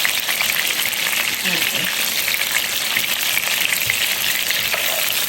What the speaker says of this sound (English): now we're gonna fry up our onions